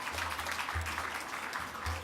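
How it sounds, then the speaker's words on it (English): Audience applause at an outdoor garden brunch held around the White House Correspondents' Dinner, a short, moderately loud wash of clapping lasting about two seconds with a low hum underneath. "so I want to give them a round of applause to start."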